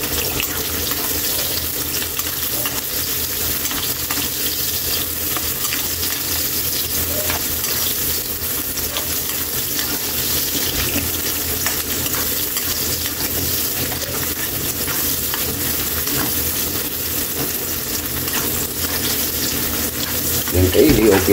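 Onions frying in a pan alongside golden-brown garlic; a continuous, fairly loud crackling sizzle runs evenly throughout with no pauses, and a brief stir or clatter comes near the end.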